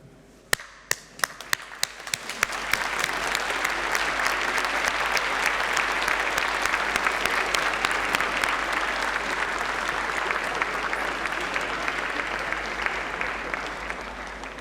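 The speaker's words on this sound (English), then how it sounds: "give them a round of applause, please" Graduation ceremony audience in a hall applauding graduates' families: a few scattered claps, then a sustained loud wave of many hands clapping that holds steady to the end.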